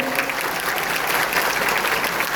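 Dense, continuous applause from a large audience at a Bihar State Madrasa Education Board event, loud and even throughout with no speech over it.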